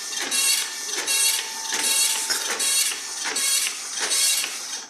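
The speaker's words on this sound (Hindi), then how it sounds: "ये कॉपी यहाँ से दोस्तों बाहर आ रही है" An Epson L365 inkjet printer with a print head problem runs its paper feed, a close mechanical whir that rises and falls in about six regular pulses, loud and steady, with no voices.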